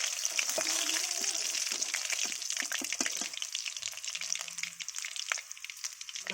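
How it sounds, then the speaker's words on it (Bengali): Chicken pakoras fry in hot oil with a steady, soft sizzle, broken by scattered pops and light scraping of a utensil stirring or lifting the pieces, fairly quiet throughout. "এই যে পকোড়া ভাজা হয়ে গেছে, দেখতে পাচ্ছেন"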